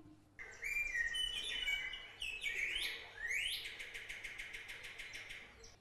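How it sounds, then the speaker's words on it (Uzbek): A common nightingale sings a varied, rich song of rapid trills, rising whistles and repeated staccato notes, loud and close, with no talking. "marhamat bulbulning tovushini eshitib ko'ring"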